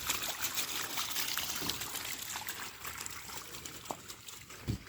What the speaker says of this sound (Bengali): পানি ছেড়ে দিলাম